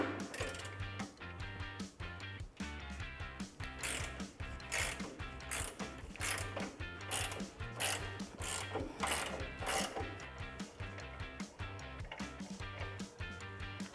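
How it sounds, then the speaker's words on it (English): A ratcheting 18 mm wrench clicks rapidly while loosening a sway bar end link nut on a 2006-2018 RAM 1500 4WD truck, with quick bursts of ratchet pawl clicks close by. "remove the nut holding our end link into the knuckle using a ratcheting 18 millimeter wrench"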